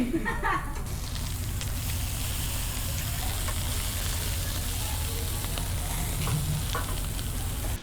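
Food frying in a pan during cooking at an anniversary gathering in Tanay, Rizal, giving a steady, dense sizzle throughout with faint clinks and background voices.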